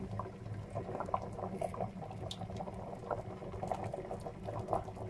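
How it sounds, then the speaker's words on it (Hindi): Water heats in a pot for spaghetti, bubbling at a faint, steady simmer with soft irregular popping and patter, and no speech. "इसको मैं बॉईल होने के लिए रखूंगी"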